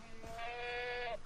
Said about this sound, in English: Neigh at me, or whatever goats do.